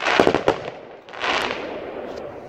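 Fireworks bang and crackle outdoors at New Year, with a few sharp close bursts early on followed by a sustained rolling crackle and hiss from many distant explosions.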